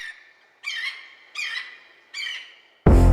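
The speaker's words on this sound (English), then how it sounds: "If you listen, hear them birds tweet." Bird calls inside a song: three evenly spaced, squawky chirps ring out alone and are followed by a sudden loud burst of music.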